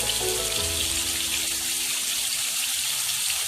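Chicken malai tikka frying in a pan, a loud, steady sizzle close by that runs unbroken throughout, with a brief low hum at the start and no speech.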